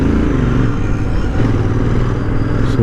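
A Royal Enfield Interceptor 650 BS6 twin motorcycle is ridden on the road, its engine and exhaust giving a loud, steady, throbbing drone close by throughout with wind rush.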